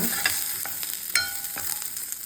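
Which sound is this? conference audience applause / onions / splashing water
onions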